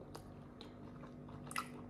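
Crunchy chewing of shrimp sushi with wasabi and rice, a takeaway brought home, heard close up as a few quiet bites and crunches, with a sharper crunch near the end.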